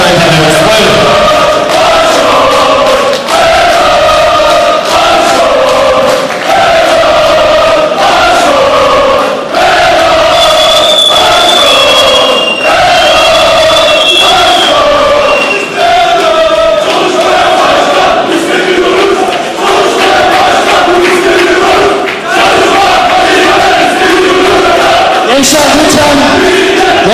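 Crowd of young supporters chanting and shouting slogans at a Turkish district political party meeting, a loud continuous rhythmic roar of many voices, echoing in a hall.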